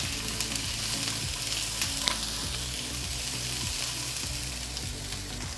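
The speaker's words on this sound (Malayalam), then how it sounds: "ആ സവോളയും കൂടി ഞാൻ ഇതിൻ്റെ അകത്തേക്ക് ഇട്ട് കൊടുക്കും." Chopped onions frying in a pan for chicken kondattam, a steady close hiss and crackle of sizzling oil that continues evenly throughout with no talking.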